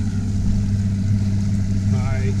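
A bass boat engine idling out on the water on a tournament practice morning after a storm: a steady low rumbling hum, close and constant, with a faint rising whine near the end.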